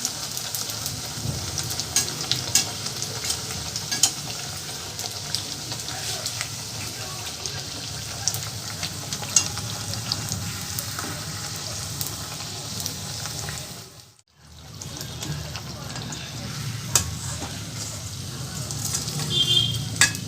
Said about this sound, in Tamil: அது மேலே அப்படியே எண்ணெயை போட்டுன்னே இருக்கும்